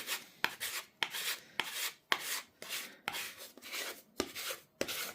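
Sandpaper rubs back and forth across the wooden deck planking of an HMS Endeavour model ship, a steady rhythm of close, raspy strokes with brief gaps between them and no voices.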